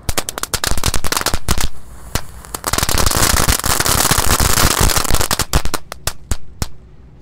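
Egg firecrackers, two packs lit at once in a ring, pop in rapid, dense bursts, a loud crackling barrage of sharp bangs that thins to scattered single cracks at the end.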